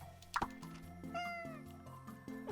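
A cat meows in the cozy street-management video game Minami Lane, a single clear, close mew over soft, steady game background music.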